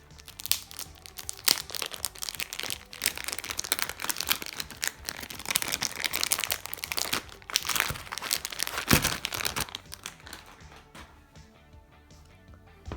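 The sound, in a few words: unwrapping plastic wrap from a YJ MGC 7x7 cube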